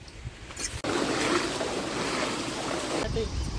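Steady broadband rush of a waterfall near Kolhapur during the rains, with wind buffeting the microphone at the start and a brief break just before one second before the roar resumes loud and continuous.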